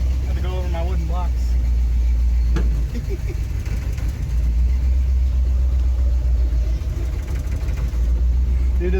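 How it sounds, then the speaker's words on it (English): A hot rod's engine while driving after an exhaust manifold leak was repaired: a constant loud low rumble dominating throughout, with a person talking briefly over it. "it's so weird driving this thing without that exhaust manifold leak"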